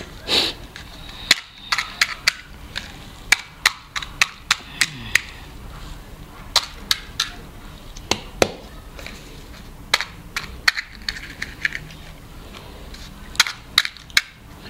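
Crispy puris for sev puri being cracked open in the center one after another: a series of sharp, brittle snaps and crunches, close and fairly loud, scattered irregularly with brief pauses between breaks.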